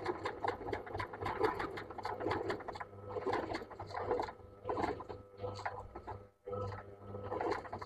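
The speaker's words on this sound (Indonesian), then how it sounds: "ini cukup sulit ya kalau menjahit garis lengkungan" A sewing machine stitches a curved line on paper in steady rapid bursts of mechanical clatter, nearby and fairly quiet, pausing briefly before resuming.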